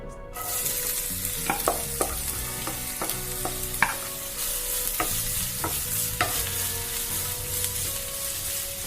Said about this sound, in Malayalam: ഓയിലൊന്ന് ചൂടായിട്ട് വന്നു കഴിഞ്ഞാൽ അതിലേക്ക് നമുക്ക് അരിഞ്ഞു വെച്ച സവാള ആഡ് ചെയ്ത് കൊടുക്കാം.